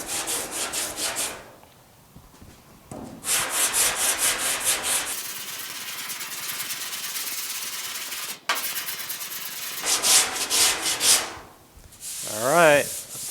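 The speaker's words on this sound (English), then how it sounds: "I'm looking how it's sanding, where it's hitting" A sanding block is worked by hand over body filler on a car door of a GTO restomod. The loud rhythmic rasping strokes come in bursts with pauses between them, close up and without speech.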